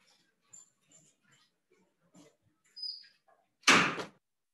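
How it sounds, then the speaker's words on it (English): An indoor door is pushed shut with one loud thud near the end, after a few faint shuffles and soft handling noises in an otherwise quiet room. "And I'll just close the door."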